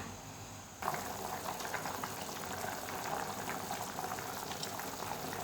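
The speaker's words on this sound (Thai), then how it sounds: "เดี๋ยวเรารอให้เขาเดือดแป๊บนึงค่ะ" A pot of chicken and young pumpkin curry boils with a continuous close bubbling and gurgle that starts abruptly, steady and fairly loud.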